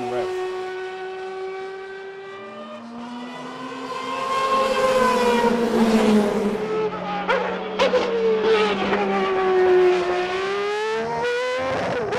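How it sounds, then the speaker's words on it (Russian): A Nissan NP35 V12 race car engine, revving above 14,000 rpm, wails loudly with rising and falling high-pitched tones through repeated up- and downshifts, sounding close and continuous for about twelve seconds. "У этого болида был такой классный звук, такой, как у Формулы-1 тех лет."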